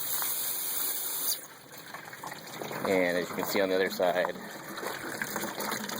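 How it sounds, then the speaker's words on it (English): Water and chicken feathers gush out of a plucker into a bucket, a loud rushing pour at first that drops to a lower trickle and splash as someone talks over it. "all your water and feathers come out in the bucket."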